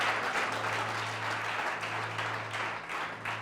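A church congregation applauds together, a steady, moderately distant wash of clapping with a low electrical hum underneath.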